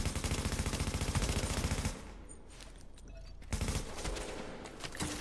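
Enemy gunfire in Tom Clancy's The Division, rapid machine-gun bursts in a fast steady rhythm, loud and close, stopping briefly partway through and then resuming as another burst.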